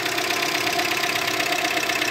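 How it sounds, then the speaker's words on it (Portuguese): A Renault Logan engine after a rebuild idles close by with a harsh, continuous knocking and clattering that stays even and loud throughout, with no voices over it. "Só você ver a bateção que ficou."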